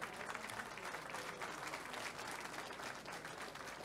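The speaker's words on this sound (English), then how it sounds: "Can you give them a round of applause" Steady round of applause from an audience at a police chief's pull-out ceremony, dense continuous clapping at moderate distance with no talk over it.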